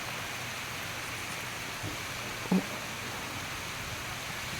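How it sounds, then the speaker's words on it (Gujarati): Heavy monsoon rain falls steadily as a dense, even hiss, with one or two brief soft knocks partway through and no voices. "ખૂબ જ સારો એવો વરસાદ વરસી રહ્યો છે"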